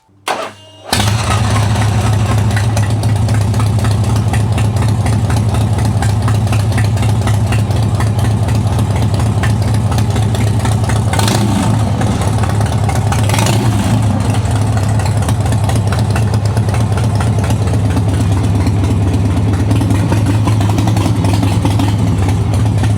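A 1985 Harley FXWG with a CV40 carburetor fires up and settles into a loud, close, steady rumbling idle that holds for about twenty seconds with no talking.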